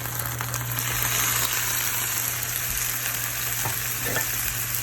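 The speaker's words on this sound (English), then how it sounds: "we're gonna add our beef. And we're gonna start cooking our beef." Beef frying with garlic in a saucepan, a steady, loud, dense sizzle that runs unbroken throughout with faint stirring scrapes and no speech.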